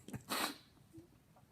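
A single violent human sneeze bursts out loudly and close, with a sharp intake before it and a faint quieter tail afterward, no speech.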